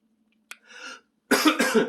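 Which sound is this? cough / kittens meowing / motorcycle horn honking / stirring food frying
cough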